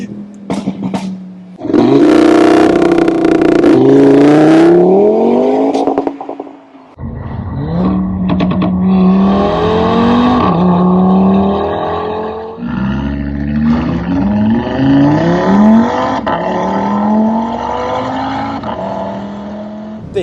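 A pre-facelift Audi RS3 roars loudly and continuously while driving, its revs climbing through several gear changes with a deep, throaty note that stays close and dominant throughout.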